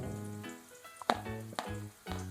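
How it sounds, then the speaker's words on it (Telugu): Chopped onions dropped into hot oil for a Konaseema chicken curry, giving a steady close sizzle and frying hiss with a few sharp spatter bursts and clinks over about two seconds, no voices. "ఆయిల్ వేసుకుంది మనం ముందుగా కర్రీకి కావాల్సిన ఉల్లిపాయలు వేసుకుందాం"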